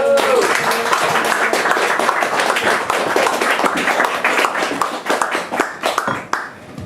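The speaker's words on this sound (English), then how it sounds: "And S.J. Fowler, please, a warm round of applause." An audience at a poetry reading in Aberdeen breaks into warm applause, dense sustained clapping that thins and trails off toward the end.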